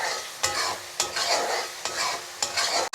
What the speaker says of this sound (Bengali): এখন আমি আরও কিছুক্ষণ কষিয়ে নেব।